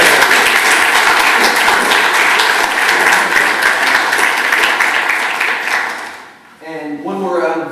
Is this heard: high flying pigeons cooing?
no